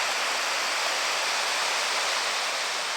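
Steady, loud broadband rush of the Cline River flowing beside a winter backcountry camp in the Bighorn area, a continuous close water roar with no voices.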